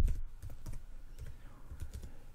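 Typing on a computer keyboard while entering text into a Google Sheets spreadsheet, a quick run of soft, close key taps in an irregular rhythm with no talking.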